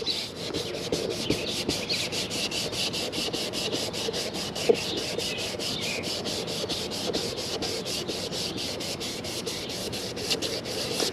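Plastic car trim is hand sanded with 320 grit sandpaper in close, loud, rhythmic rubbing strokes that repeat steadily from start to finish, with no talking.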